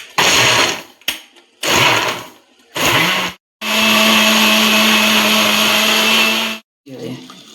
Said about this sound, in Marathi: आता आपण मिक्सर हे करून घेऊया.